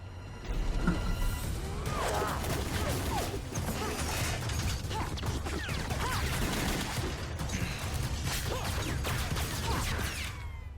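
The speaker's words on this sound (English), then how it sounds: "Tell me those bullets are bouncing off the trees." Rapid bursts of gunfire and metallic clanks ring out during a fight scene in the RWBY animated series, with dense, continuous impacts and mechanical clatter at a fairly steady level.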